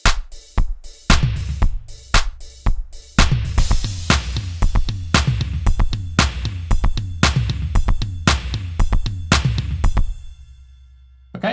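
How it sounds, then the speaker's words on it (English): A programmed 70s-style drum kit pattern with clap hits, crisp kick, snare and cymbal strikes in a steady groove for about ten seconds, then a brief fading tail. "So what you're hearing right now is going to be the MIDI information from the 70s drum kit"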